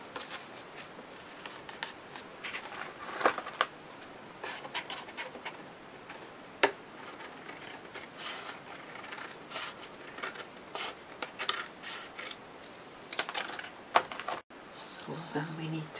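Scissors snipping across the top of paper for an 8 x 8 mini album craft project, a long stretch of close, repeated crisp cuts and paper rustling with uneven rhythm.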